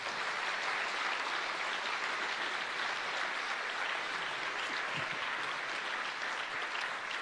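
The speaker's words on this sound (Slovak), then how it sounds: "Toľko medailí si zaslúži váš zaslúžený potlesk." An audience at a Christmas concert applauds, a full, even roar of clapping that stays steady from start to finish across about seven seconds with no talking over it.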